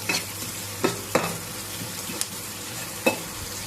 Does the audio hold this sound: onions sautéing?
yes